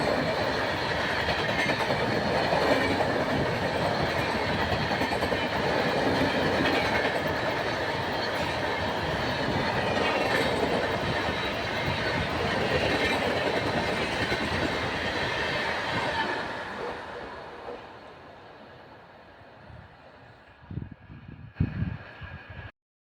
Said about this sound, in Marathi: fast train is coming